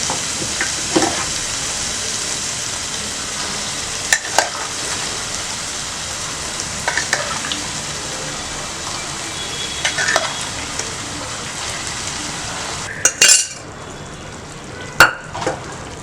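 Lamb head curry with chana dal being stirred in a pan, giving continuous scraping, sizzling and bubbling with scattered sharp spoon knocks against the metal, close and fairly loud throughout.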